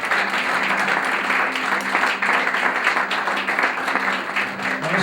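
Applause from a church congregation during a sermon, a sustained, fairly loud patter of many hands filling the whole span with steady density and a faint murmur of voices underneath.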